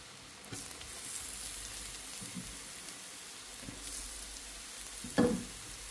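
Radish frying in spice paste for a rohu fish chutney: a soft, continuous sizzle with occasional scraping stirs, one louder clatter near the end.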